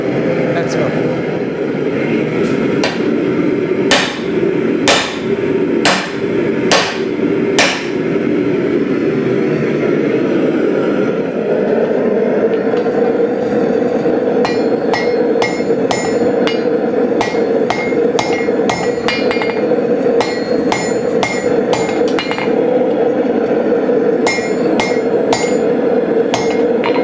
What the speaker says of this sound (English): I'm going to use the swagger and hammer it down gently so I don't mar the steel